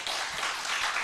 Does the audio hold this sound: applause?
yes